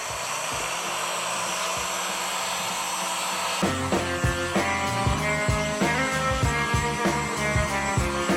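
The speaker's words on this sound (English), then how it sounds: "I'll get the heat gun, take all this silliness off of here." Heat gun blowing steadily while coating is stripped from Harley Davidson parts, a loud constant whooshing drone close by, with its tone shifting and wavering rhythmically in the second half.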